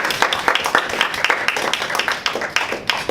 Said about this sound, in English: please give all of you a round of applause for that